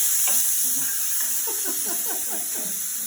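Ginger, garlic and chili paste sizzles with frying onions in a pan, a loud close hiss with light crackling and stirring textures throughout, no voices.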